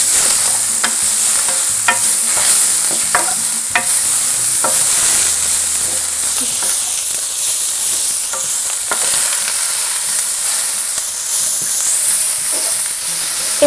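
Whole spices and a red chili stirred in hot oil in a frying pan for fish curry, with a steady close sizzle and repeated scraping clicks of the utensil against the pan, no talking.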